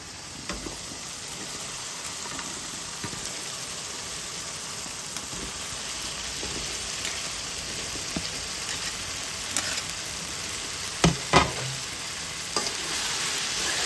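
Okra pieces fry in oil alongside tomatoes, making a continuous close sizzle with stirring scrapes and a couple of louder clattering knocks near the end.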